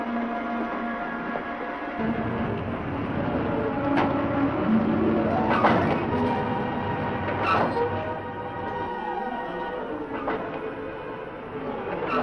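A steady rumble of a moving passenger train, with occasional metallic squeals and whines rising over the continuous rolling noise.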